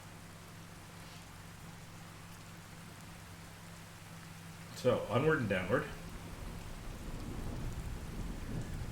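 Steady rain hiss with a low rumble of thunder from a True Storms weather mod in the video game Fallout Equestria, a short crackling roll of thunder midway, and someone talking briefly over the storm.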